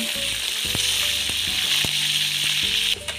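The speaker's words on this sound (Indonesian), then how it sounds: "sekarang kita mau menggoreng tomatnya, bawang merah, dan juga cabai rawit" Tomatoes, shallots and bird's eye chilies fry in hot oil, giving a loud, steady close sizzle with scattered sharper pops and clicks of stirring throughout.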